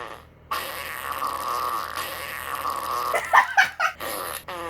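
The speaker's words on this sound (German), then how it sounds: "Wir reagieren jetzt ziemlich lange auf Furzgeräusche." Fart sound effects: a long, buzzing, sputtering blast, then several shorter choppy bursts toward the end, loud and close with no talk over them.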